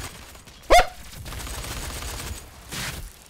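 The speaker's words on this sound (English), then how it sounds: "I just threw a grenade there." A grenade blast and gunfire in DOOM multiplayer: one sharp, loud burst near the start, then a low rumble and a second, softer burst near the end.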